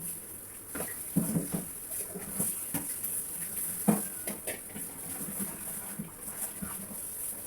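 Cut pieces of beef, about a kilogram, are washed by hand in a pot, giving irregular splashes, wet clatter and clinks of metal close by, moderately faint, with no voices.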